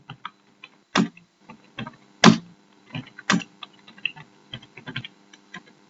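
Sparse typing on a computer keyboard while entering values into an Excel spreadsheet: close, crisp key clicks in irregular bursts, a few louder strokes standing out against near silence.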